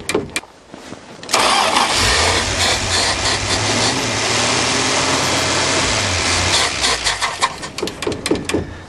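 A 1977 Dodge van engine starting in cold winter weather: a few clicks and a short cranking, then the engine catches and runs loudly and steadily before settling, with faint knocks near the end.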